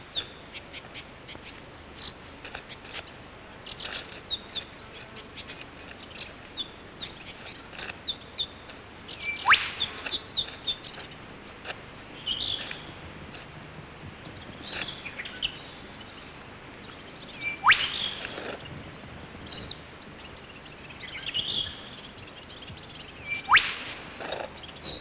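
Eastern whipbirds call in an Australian forest: a few sharp, whip-crack-like calls stand out at intervals over a faint, steady background of forest birdsong, with no voices.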